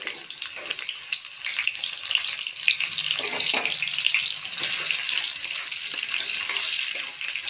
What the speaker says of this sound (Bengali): তেল গরম হয়ে গেছে, আমি পেঁয়াজগুলো দিয়ে দেবো।